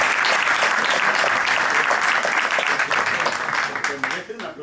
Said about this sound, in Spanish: yo creo que se merecen un aplauso